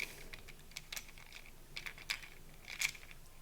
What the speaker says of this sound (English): you'll first need to unwrap your cuvettes and open them up